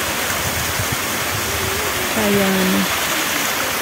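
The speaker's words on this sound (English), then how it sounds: "Kasi nakita ko yung waterfall na to." Rushing countryside waterfall pouring steadily during rain, a dense, loud wash of water noise; a voice briefly speaks over it.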